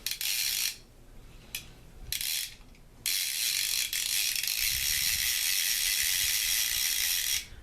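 A rebuilt Penn Peerless No. 9 fishing reel, spooled with old line, winds in with close, loud ratcheting clicks in several bursts separated by short pauses, ending in a long unbroken run.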